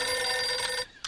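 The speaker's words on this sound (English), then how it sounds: "This is a phone call where they say April Fools and come in the back" A telephone bell rings loudly and steadily, then cuts off, followed by a brief click as the handset is lifted.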